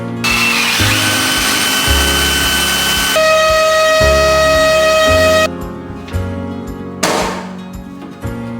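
Power drill driving screws into the sheet metal floor of a school bus being converted, loud whining runs that stall and restart, with sharp metallic grinding and a bang near the end.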